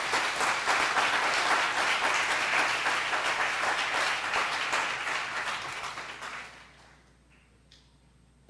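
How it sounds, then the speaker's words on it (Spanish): Congregation applauding during a church service, a loud sustained burst of clapping that gradually thins out and fades into near silence at the close. "Dale un aplauso al Espíritu Santo de Dios."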